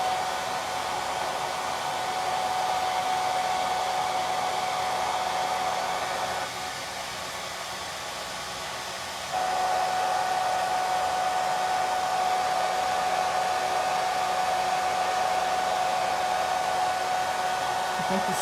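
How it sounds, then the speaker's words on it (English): A hair dryer on its low, cool setting blows over a small decoupaged wooden Christmas ornament, giving a steady, close whir that dips briefly in the middle before resuming at full strength. "So now I'll dry it. This is a cool setting that's lower, so it's quieter and it doesn't tend to dry as fast"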